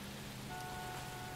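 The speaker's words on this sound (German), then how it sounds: "es regnet, das ist mir zu gefährlich. Regen in L.A." Rainfall in the L.A. Noire Remastered video game forms a soft, even hiss of drops on surfaces, faint and unbroken throughout with no voices.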